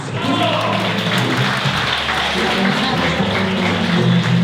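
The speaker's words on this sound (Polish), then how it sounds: "Prosimy o gorące brawa." Warm applause from an audience at a school prom ball, dense steady clapping filling the room, loud and sustained, with faint voices mixed in.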